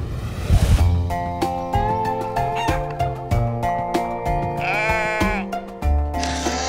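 Sheep bleat over and over, loud and near, as several overlapping calls follow one another in an uneven rhythm.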